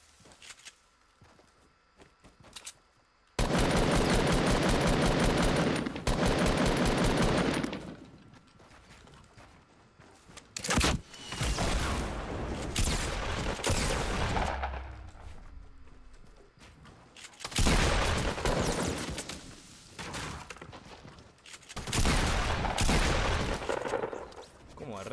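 Gunfire in a Fortnite solo-versus-squad match, with loud bursts of rapid shots, pauses and further volleys over the length, mixed with game effects and a player talking at times.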